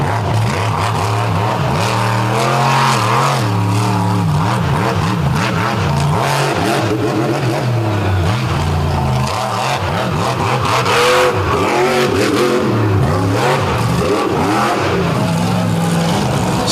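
A handicapped monster truck roars through its run at a beach show, the engine revving hard in repeated rising and falling surges, loud and continuous for the whole stretch with no voices over it.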